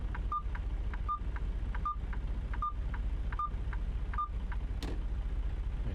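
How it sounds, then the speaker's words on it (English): Steady repeating turn-signal beeps, about ten evenly spaced chirps, ringing out over a low engine hum inside a truck cab. "Rather just not use a blinker instead of listen to that irritating beep"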